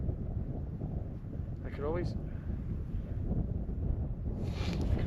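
Wind blows steadily across open ice while ice fishing on Georgian Bay, a constant low rumbling roar buffeting the microphone, with a person speaking briefly over it.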